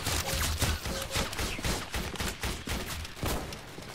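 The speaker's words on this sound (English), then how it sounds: "Oh, I'm being shot at." Rapid, dense gunfire in the Roblox game Entrenched, a steady barrage of overlapping shots close by with no pause across the whole stretch.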